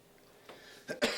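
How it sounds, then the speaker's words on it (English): A couple of short, close coughs in quick succession after a soft throat sound at a press conference, with no talking. "I'm battling a cough"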